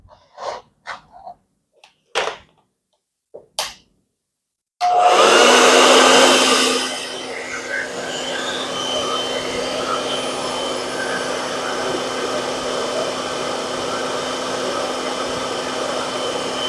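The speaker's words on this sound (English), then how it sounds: "my hair dryer because I want to dry things quite faster" A hair dryer drying an acrylic painting switches on loud after a few clicks and handling noises, then settles into a steady, continuous blowing hum.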